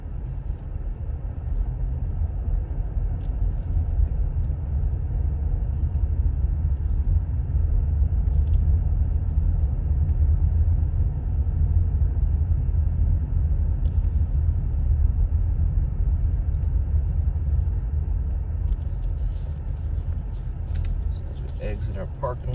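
A car pulls slowly out of a parking lot during a driver's education lesson, heard from inside the cabin as a steady, loud low engine and road rumble that holds throughout, with a few faint clicks and no one talking.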